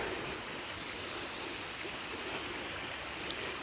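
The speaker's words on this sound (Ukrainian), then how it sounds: "зараз покажу невеличкий водоспад" Steady, continuous rush of a small man-made waterfall pouring from a pipe over stones in a winter park in Odesa, dense and broadband, with no voices or pauses throughout.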